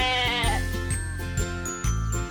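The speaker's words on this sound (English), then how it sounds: "Sheep." Sheep bleating on a farm, a few short wavering calls over a steady musical backing with light jingling, fairly close and clear.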